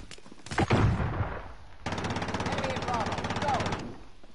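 Enemy gunfire in Call of Duty: Modern Warfare: a sustained burst of rapid automatic shots, loud and steady for about two seconds, preceded by a few heavier impacts and layered with faint game sounds.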